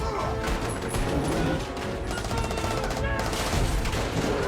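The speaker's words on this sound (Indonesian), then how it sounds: "Semua kru berusaha menyelamatkan diri dan menembaki George, namun George terlalu kuat." Film-scene gunfire as a ship's crew shoots at a mutated monster: dense, continuous bursts of shots and crashes fill the whole stretch loudly, with no clear speech.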